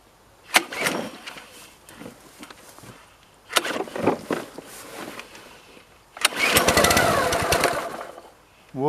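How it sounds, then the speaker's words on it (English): A new petrol lawnmower gets pull-started: two short rattling cranks from the recoil cord, then a third pull catches and the engine sputters into a close, loud running chug. "we take our pulley and we give it a pull"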